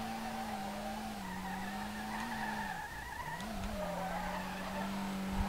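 Tires skid and squeal through a first-gear drift in the SLRR racing game, a steady engine drone carrying throughout with a brief dip in the middle, loud and continuous with no talking.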